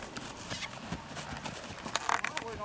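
A young horse trots around a large outdoor dressage arena, its hoofbeats landing in a steady, close clip-clop rhythm over a busy background.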